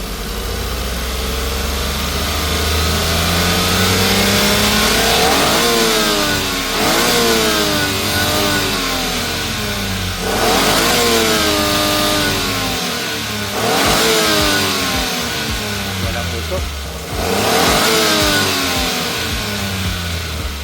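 A Suzuki DA17V car engine idles, then revs up repeatedly in long, rising surges that fall back to idle, loud and close with no one talking.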